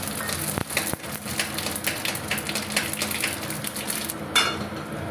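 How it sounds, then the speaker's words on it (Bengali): Radhuni and cumin seeds crackle and sizzle in hot oil in a pan, a close, steady frying hiss with scattered sharp pops and a brief clatter of utensils, no voices. "রাঁধুনি আর জিরে এবার আমি তেলের মধ্যে দিয়ে দিলাম।"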